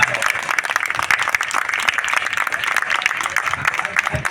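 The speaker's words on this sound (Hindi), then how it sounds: "ऐसे नहीं, तालियां तो बजा दो।" Audience applause at a mixed Magahi and Hindi poetry gathering during a book fair, steady clapping with voices mixed in and a lively crowd under it.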